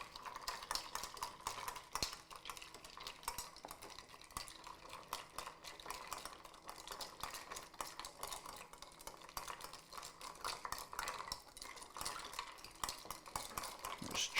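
Bar spoon stirring a Vesper cocktail over cracked ice in a mixing glass, a steady close rattle and clink of ice against glass that runs without pause and with no voices.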